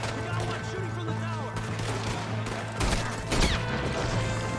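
Gunshots in the Red Dead Redemption II video game, scattered sharp cracks and a couple of louder blasts over a steady background hum of game sound, fairly close, with faint vocal sounds mixed in.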